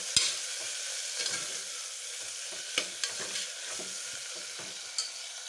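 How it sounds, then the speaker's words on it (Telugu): Chopped tomatoes and coriander fry and get stirred in a pan for mutton curry, a steady close sizzle broken by a few sharp scrapes of a spoon against the pan. "ఇప్పుడు దీంట్లో సన్నగా తరుక్కున్న టమాటాలు, కొత్తిమీర వేయించుకొని కాసేపు టమాటాలు మగ్గించాలి."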